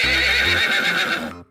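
A horse lets out a loud, close whinny that rises and wavers for over a second, then cuts off abruptly into silence.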